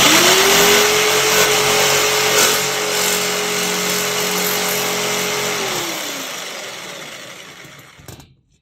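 A power tool cuts a small piece of aluminum sheet for Morris Minor Traveller side panels, holding a loud, steady whine for about six seconds before winding down and fading out alone.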